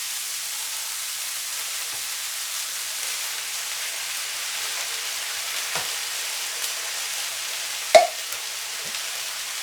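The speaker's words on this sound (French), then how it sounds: "On ajoute ensuite donc la boîte de tomates concassées." Crushed canned tomatoes hiss and sizzle quietly in a hot pan for a pepper and egg gratin, a soft steady frying noise with a few faint clicks of a spoon stirring.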